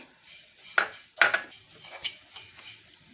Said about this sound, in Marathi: आता मी पोहे भाजून घेते